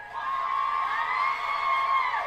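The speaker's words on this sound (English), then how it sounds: "Listen to them cheer her on." An audience at a rally cheers on a speaker with a loud, sustained wave of whoops and shrill yells that holds steady and fades at the end.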